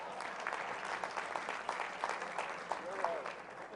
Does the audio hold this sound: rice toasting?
no